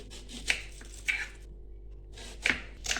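Onion being finely chopped with a knife for chapati chaat, a few distinct sharp cuts spaced apart with quiet gaps, close and fairly soft.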